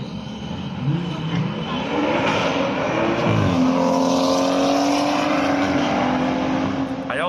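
BMW M140i cars drag racing, an engine roaring and climbing through rising revs and gear changes, then holding a loud sustained drone, with a car passing close.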